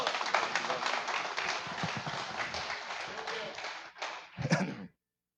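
A congregation gives a round of applause for Pablo during a Portuguese-language talk: dense, steady clapping for about four seconds, then a short final burst before it cuts to silence.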